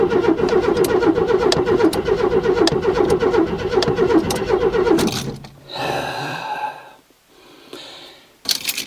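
A rich-running carbureted engine cold-starting at -10°C: about five seconds of loud, steady rhythmic cranking and churning, then the sound drops abruptly into a quieter, uneven rumble with short breathy bursts.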